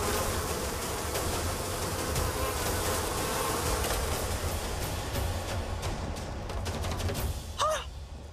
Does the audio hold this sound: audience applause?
no